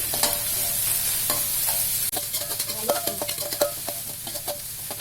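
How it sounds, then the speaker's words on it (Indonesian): Shallots and soup leaves sizzle and fry in a pan, with steady crackling and repeated clinks and scrapes of a spatula stirring, close and fairly loud with no talking. "Bawang merah, tambahan daun sup, tumis sampai harum."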